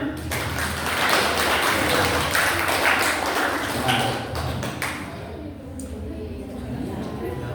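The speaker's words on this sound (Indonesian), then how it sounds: "Oke, tepuk tangan." Audience applause at a digital literacy and culture workshop, a burst of clapping from the room that rises quickly, stays dense for several seconds, then thins out near the end.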